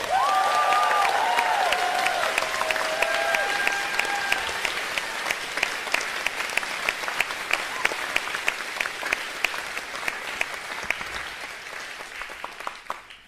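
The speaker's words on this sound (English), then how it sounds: "so let's give them a round of applause now." A large audience applauds a choir at a Bay Area Secular Solstice gathering, steady dense clapping filling the hall and slowly thinning toward the end, with a few bright musical tones lingering early on.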